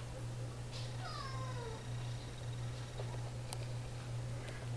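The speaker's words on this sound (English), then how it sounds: "Come on, Mr. Pooh Plop Splotches in the cat box" A cat meows from inside a cat box, several short rising calls over a steady low hum, fairly faint, with no talking.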